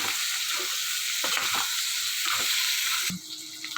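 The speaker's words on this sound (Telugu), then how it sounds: "మీడియం ఫ్లేమ్ మీద ఒక ఫైవ్ మినిట్స్ అలా కొంచెం ఫ్రై చేద్దాము వీటిని" Baby potatoes fry in a pan over a medium flame, giving a steady, close, loud sizzle with a few soft stirring scrapes and a brief drop in intensity near the end.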